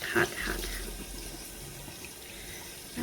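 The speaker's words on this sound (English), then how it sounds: "Hot water." Hot water runs steadily from a tap into a sink during face washing, a continuous close hiss of flowing water with a brief splash at the start and end.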